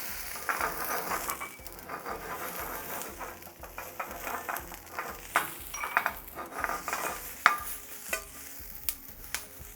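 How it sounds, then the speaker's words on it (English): Peppers are sautéed in olive oil in a pan, a soft steady sizzle beneath repeated scraping and clattering of a utensil against the pan, close and irregular, with no talk. "we're going to saute them, which means we're going to rotate them in the pan so they cook evenly"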